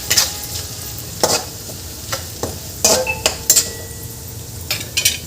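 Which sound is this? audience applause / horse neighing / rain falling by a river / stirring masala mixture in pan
stirring masala mixture in pan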